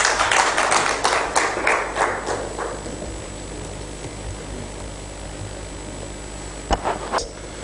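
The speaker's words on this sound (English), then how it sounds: "A big round of applause for him, please." A conference audience claps in a short burst of scattered applause that fades within a few seconds, followed by quiet room hum and a couple of isolated late claps.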